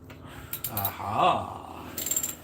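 A ratchet with a 10mm deep socket works on a 5.7 Hemi engine, giving a brief burst of quick, close clicking that rises and falls. Further short clicks come near the end.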